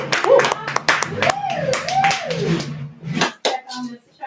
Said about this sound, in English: can we have a round of applause for Woo! how handsome